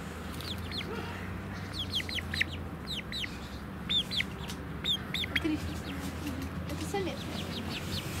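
A rooster and hens cluck and chirp repeatedly in a greenhouse against a steady hum, with soft voices talking nearby.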